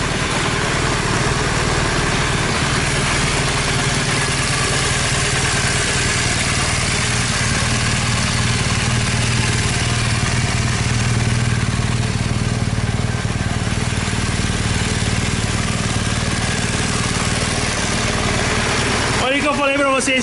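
A BMW GS1200 Rallye motorcycle engine idling and warming up, a steady close-up rumble running unchanged for twenty seconds, with a brief extra noise just before the end.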